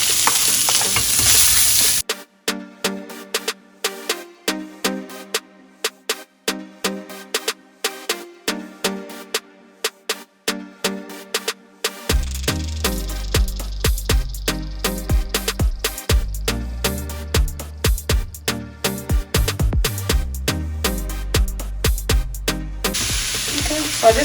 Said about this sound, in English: I'm going to put the onion inside.